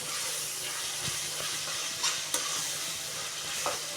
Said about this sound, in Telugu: పేస్ట్ పచ్చివాసన పోయేదాకా అయితే వేయించుకుని